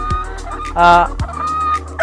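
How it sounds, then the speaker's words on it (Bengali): Tiger breed chickens clucking and cackling nearby, one louder burst of calls standing out over a low steady background hum. "এই মুরগিগুলো টাইগার মুরগি অরিজিনাল টাইগার মুরগি"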